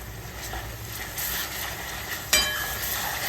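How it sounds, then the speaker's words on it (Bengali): Mutton kosha masala with turmeric sautéing in a pan, a steady soft sizzle with scraping stirs, and a sharper clatter of the spoon against the pan near the end. "এরপরেই দেখো হলুদ গুঁড়ো দিয়ে একটু ভালো করে কষিয়ে নিচ্ছি"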